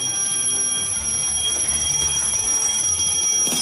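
An alarm rings continuously and loudly during an escape-room game challenge, a steady metallic bell-like tone holding unbroken throughout.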